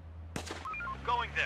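Video game gunfire in Infection Free Zone: a single sharp shot cracks out, followed by brief electronic tones and another burst of distant-sounding fire, with no one talking over it.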